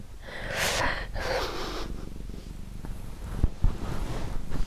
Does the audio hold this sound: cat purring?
yes